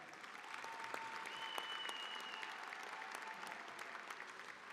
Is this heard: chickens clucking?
no